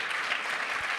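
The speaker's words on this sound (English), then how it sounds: "Applause." A crowd at the finals of a large AI hackathon in Hamburg applauds during the awards. The clapping is a brief, even wash of many hands, with no voices over it.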